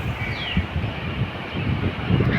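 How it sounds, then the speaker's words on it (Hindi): Fast-flowing floodwater rushes past Jawainiya village, eroding the bank, heard as a steady broadband roar close by, with light wind buffeting and no voices. "और पानी का आवाज़ आपको सुनाई दे रहा होगा।"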